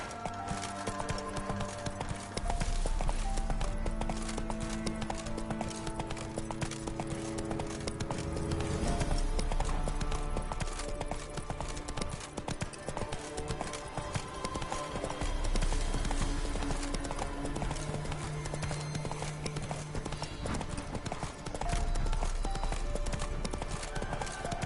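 A horse gallops in The Witcher 3, rhythmic clip-clop hoofbeats pounding steadily for the whole stretch, loud and close, mixed with game music and ambience.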